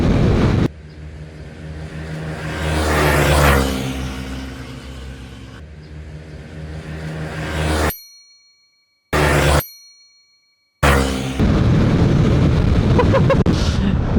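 A Honda Click 160 scooter engine revs up loudly and accelerates with a rising whine, then cuts out briefly in gaps before resuming, with a voice speaking over parts.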